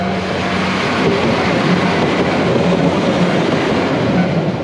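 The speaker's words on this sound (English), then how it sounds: "Oh, there's a train coming!" A train rumbles past nearby in Japan, a steady loud roar of wheels and carriages holding for several seconds with faint rhythmic clatter.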